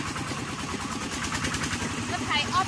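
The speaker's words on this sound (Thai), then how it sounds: "รถไถออฟโรดนะนี่" An off-road tractor engine chugs in a steady, rhythmic low thump with a faint higher whine near the end.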